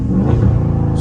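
A Dodge Charger Scat Pack at night gives off a loud, close exhaust burble, a rapid rhythmic crackling rumble with low pulsing pops, alone and brief.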